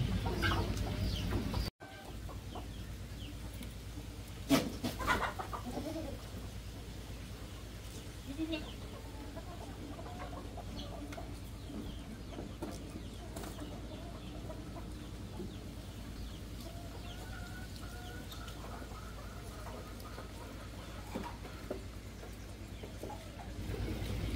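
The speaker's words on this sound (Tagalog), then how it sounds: "Ito yung mga native chicken ko." Native chickens cluck softly and sporadically against a steady low background hum, with a few louder clucks and faint scattered farmyard sounds.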